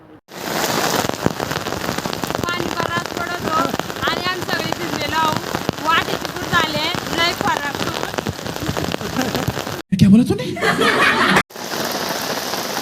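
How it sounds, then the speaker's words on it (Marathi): Heavy rain pours steadily outdoors near a Khandoba temple and Barvi dam, a dense continuous hiss of drops on surfaces lasting throughout, with people talking and laughing over it and a brief muffled break near the end. "लय पाऊस पडत आहे"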